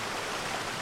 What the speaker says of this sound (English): We're behind a waterfall.